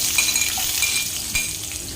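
Garlic and onion hit a hot pan for ginisang ampalaya with egg, setting off a loud, steady frying sizzle with light clinks of a utensil close by.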